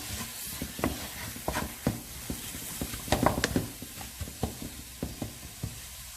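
Minced beef and tomatoes are stirred in a pan, with a soft sizzle beneath repeated scraping knocks of a spoon, quiet and close, at an irregular rhythm.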